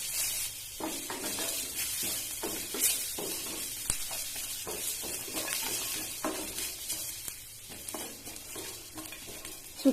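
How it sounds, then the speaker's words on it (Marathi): Dry coconut, garlic cloves and ginger are sautéed in a pan, with a continuous low sizzle under repeated stirring scrapes and light taps from a spoon over about ten seconds. "खोबरं लसूण आणि आलं व्यवस्थित परतून घेतल्यानंतर"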